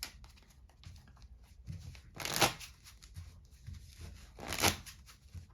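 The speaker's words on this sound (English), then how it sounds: "They can shuffle this deck as much as they want" A spectator riffle-shuffles a deck of playing cards on a table during a card trick, two distinct bursts of close, crisp riffling over a quiet background.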